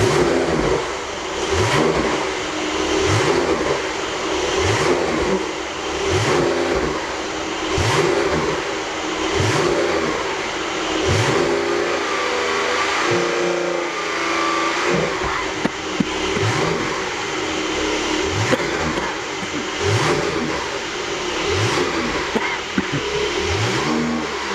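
A Porsche 911 Carrera Turbo in sport mode revs repeatedly, each blip rising and falling in a steady rhythm roughly every second and a half, loud and close, with no talking.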